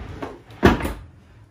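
A built-in drawer in a converted school bus is pulled open and pushed shut, giving a soft slide and then a sharper close knock, heard up close with no talking.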